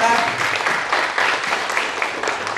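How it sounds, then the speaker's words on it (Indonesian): An audience at a talk event gives a speaker a dense burst of hand clapping, loud and close, holding steady throughout with a voice faintly underneath. "Kami berikan kehormatan dan juga tepuk tangan yang meriah untuk Bapak M. Satria Nugraha."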